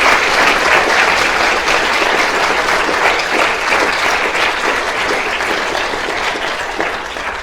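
A seated audience at a talk on coastal and marine global warming impacts applauds the speakers and panellists: loud, dense clapping that holds steady for several seconds and only slowly thins, with no voices over it.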